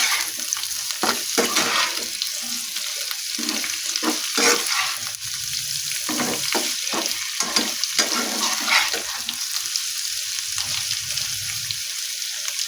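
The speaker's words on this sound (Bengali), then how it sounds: "এটাকে এইভাবে নাড়তে নাড়তে এটাকে ভাজতে হবে" Boiled drumstick stalks and potatoes with onion are stirred and fried in a pan, giving a continuous sizzle broken by repeated spatula scrapes and clatters, close and fairly quiet, with no voices.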